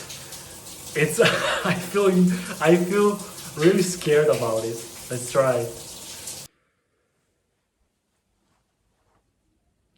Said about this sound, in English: So this is the first cold shower.